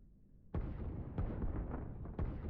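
Artillery fire in the real-time strategy game Line War booms out in three sharp blasts, each one rising over a steady rumbling bed of distant battle noise.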